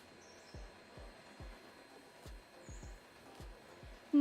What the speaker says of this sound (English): I can hear it from Chris's train here